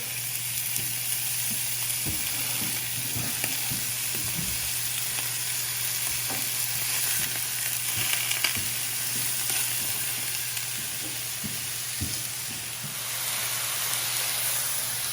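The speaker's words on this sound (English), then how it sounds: "Gotta put these in the pan to brown them on all sides." Food pieces brown in a frying pan with a continuous close sizzle and hiss, broken by occasional soft stirring clicks as they are turned.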